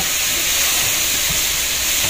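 Fritters (bora) frying in oil give off a steady, dense sizzling hiss, close and even from start to finish with no talking.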